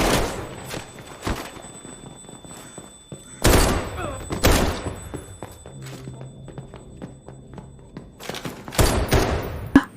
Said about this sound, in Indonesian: Hoshi ditembak oleh tentara Korea Utara yang ternyata masih ada yang hidup